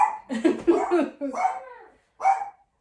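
A Cairn Terrier and Yorkie mix barks and yips repeatedly in a house, a run of quick high barks followed by a pause and one more yap, fairly close.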